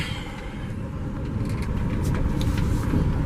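A truck engine runs while driving with overdrive off, holding higher RPMs, a loud steady low rumble with road noise, heard close from inside the cab.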